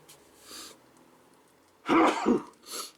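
A single sharp sneeze bursts out after a quiet stretch, followed by a short exhaled breath.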